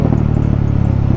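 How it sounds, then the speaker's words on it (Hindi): KTM RC 390 motorcycle running with its muffler removed: a loud, close, steady open-exhaust rumble with quick irregular popping crackles from exhaust backfire throughout. "नेक्स्ट लेवल बैक फायर मार रही है"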